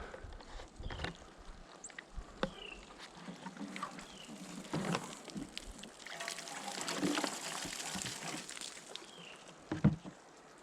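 Water is poured and dumped out of a jug, giving faint, intermittent splashes and trickles with scattered knocks, quiet and close.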